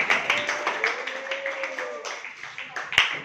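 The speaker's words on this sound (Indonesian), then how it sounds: "mari kita beri tepuk tangan untuk kelompok" In a school classroom, students clap for a group with a loose, uneven patter of hand claps and a few sharper taps, mixed with voices and a sustained tone in the background.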